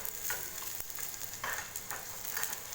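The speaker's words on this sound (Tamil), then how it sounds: "வெங்காயம் பார்த்திங்கன்னா இன்னும் லேசாக வதங்கணும்" Onions sauté with asafoetida in a pan for a lady's finger kara kuzhambu, a soft continuous sizzle close by with light stirring scrapes and no talking.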